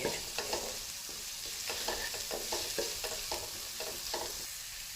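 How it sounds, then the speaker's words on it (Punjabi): Tadka masala for matar paneer fries and sizzles in a pan while a spoon stirs it, repeated scraping strokes in a quick rhythm over a steady close sizzle, with no talking. "1 ਮਿੰਟ ਅਸੀਂ ਹੋਰ ਭੁੰਨਣਾ ਹੈ ਤਕਰੀਬਨ ਤੜਕਾ ਸਾਡਾ ਭੁੱਜ ਗਿਆ ਵਾ ਹੈ"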